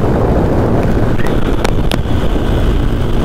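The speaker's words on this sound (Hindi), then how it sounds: "क्या ठंडी ठंडी हवा आ रही है" Cold wind roars steadily against the microphone while riding a Pulsar N160 motorcycle, a loud, even rush with a couple of brief squeaks over it and no talking.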